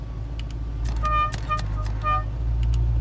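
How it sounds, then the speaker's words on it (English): An Aston Martin Lagonda's horn sounds in short two-note honks, several quick bursts close by over a steady low engine idle. "you can really get their attention with two different notes of horn."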